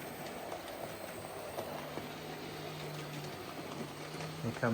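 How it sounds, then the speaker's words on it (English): A Black 5 steam locomotive runs along the railway, its rolling rumble steady and moderately distant, with a long sustained whistle-like tone in the middle and near the end, a voice faintly under it. "There goes the Black 5 with that roaring fire on the footplate."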